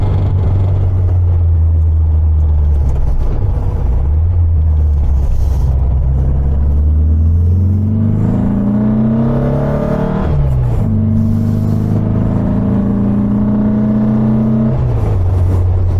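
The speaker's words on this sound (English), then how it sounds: "You're not going to get too many four-pot engines to sound better than that." A 1974 VW Super Beetle with a 1915cc four-cylinder engine drives along, its loud, steady engine drone rising and falling through gear changes, with a shift near the middle before it pulls again.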